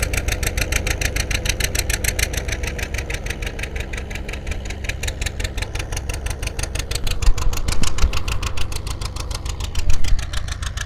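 Two old farm tractors, one big and one small, chug steadily with a rapid, knocking idle rhythm, loud and close, swelling slightly near the end, with no voices.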